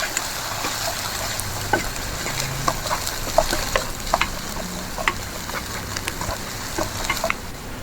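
Onions fry with ginger-garlic paste as a spoon stirs them, a low sizzle under repeated scraping and clicking taps against the pan.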